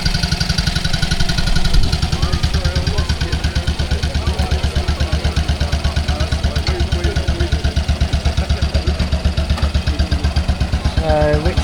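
A vintage Matchless motorcycle engine runs loud and close at a steady, rapid thumping beat during a historic military road run, with faint voices in the background.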